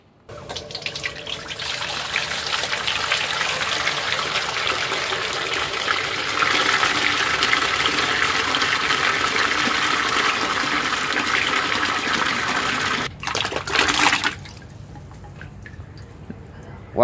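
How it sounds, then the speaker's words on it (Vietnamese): Straw mushrooms being rinsed in water in a kitchen, a steady rush of running water like a tap filling a basin, continuous and fairly loud before cutting off near the end with a few clattering handling sounds. "mình rửa khoảng 3 nước cho nấm rơm nó sạch"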